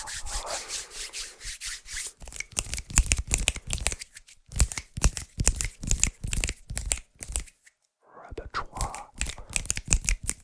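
Close rhythmic rubbing and brushing of bare hands, quick dry swishes in bursts with short pauses and a whispery texture.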